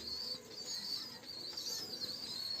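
Doves coo softly in a dovecote-like pigeon house where young doves are kept, a faint, fairly distant murmur running steadily for a couple of seconds.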